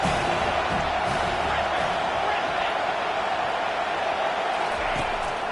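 A college football stadium crowd roars steadily during a big third-down defensive stand, a dense, sustained cheer filling the whole span, heard over a broadcast's distant commentary.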